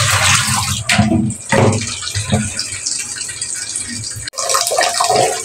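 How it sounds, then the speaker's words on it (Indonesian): Chilies rinsed by hand under running tap water, a steady close gush with splashes and sloshing as they are stirred, one brief break in the flow before it resumes. "Kita cuci ya teman ya, cuci sampai benar-benar bersih sekali."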